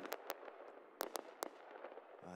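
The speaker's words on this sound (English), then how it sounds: "Fireworks to start" Pregame fireworks go off at a stadium before a Las Vegas Lights FC versus Real Monarchs SLC soccer match, a series of sharp distant bangs and crackles over a steady crowd hum.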